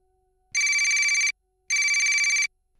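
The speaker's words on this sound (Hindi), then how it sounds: "न जाने रात का वो कौन सा पहर था जब मेरे फ़ोन की घंटी बजी।" A telephone rings twice, two bright trilling bursts of nearly a second each separated by a short pause, loud and close in an otherwise quiet room.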